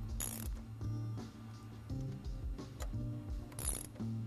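Brake disc pinch bolts are cranked with a ratchet wrench, a rapid series of close mechanical clicks and pawl ticks in repeated bursts, with a few brief metallic scrapes between strokes.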